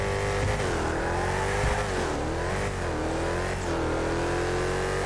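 Widebody GTR drift car in GTA 5 accelerating hard, the engine note rising and dipping through several shifts and revs, loud and continuous.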